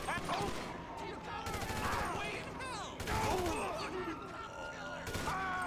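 Rapid bursts of AK rifle fire in GTA 5 free roam, several volleys over a few seconds with game sounds and other gunfire mixed in.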